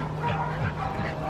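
A new puppy gives short, soft yips and a whimpery bark over a steady low indoor hum, close by and fairly faint.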